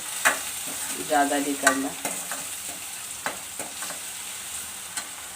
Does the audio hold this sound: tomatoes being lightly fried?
yes